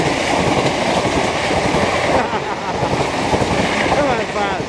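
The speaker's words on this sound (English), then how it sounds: "Listen for trains across the level crossing." A loud, continuous rumbling rush of a train rolling past close by at a level crossing, with steady clattering texture and a brief whoosh of wind partway through.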